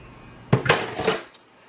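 Metal muffin pans and utensils clatter briefly on a kitchen counter while egg mixture is spooned into cups, giving a quick loud cluster of clanks and scrapes close by that fades within a second.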